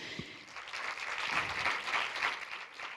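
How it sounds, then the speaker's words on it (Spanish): An audience gives sustained applause for the directors of a documentary, a dense, even wash of clapping from a crowd that holds steady throughout without speech. "Os quiero pedir un fuerte aplauso para los directores del documental, Cristina Trenas, Rogelio González y Santos"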